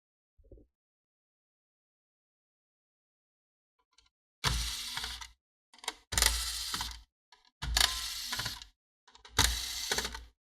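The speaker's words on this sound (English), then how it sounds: "start by disconnecting the heatsink for the CPU by just removing 4 screws here" Screws being removed from the CPU heatsink of a Dell Precision M6300 laptop with a small electric screwdriver, heard as four close, short whirring bursts after several seconds of near silence.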